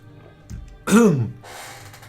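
A single throat clearing from a person livestreaming, a short harsh burst with a rough cough-like rasp, heard close to the microphone against quiet room noise.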